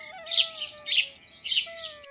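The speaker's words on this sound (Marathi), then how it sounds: "वरती आल्यावर तुम्ही ऐकू शकता की श्रद्धाळूंसोबत इकडचे पक्षी सुद्धा श्री कृष्णाच्या भक्तीत लीन आहेत" Small birds chirp at a Radha Krishna temple near Kalyan, Mumbai: three bright bursts of tweeting at even intervals over a thin whistling tone, fairly close and otherwise quiet.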